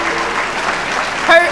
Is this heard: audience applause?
yes